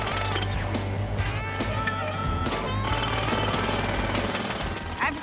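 A jackhammer breaking asphalt pounds loudly and continuously nearby, rapid percussive hits with a few brief pauses between bursts.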